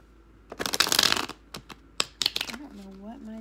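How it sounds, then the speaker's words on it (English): Tarot cards being shuffled in quick, crisp riffling bursts, loud and close, followed by a few separate flicks and then a voice starting to speak. "I'll shuffle a couple more times."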